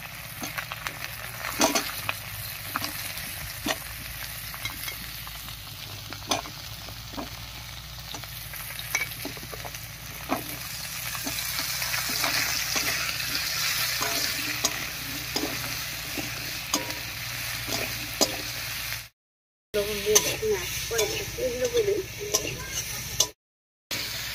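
Chopped vegetables for a vegetarian dish sizzle steadily in a pan. A spatula stirs and taps them in regular scraping strokes for a long stretch, with a few brief gaps near the end.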